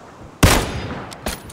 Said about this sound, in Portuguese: Eles estão trocando um tiro.